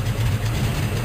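A de Havilland Beaver DHC-2 aircraft engine idles with a steady, low rumbling drone, continuous and fairly loud throughout with no talk over it.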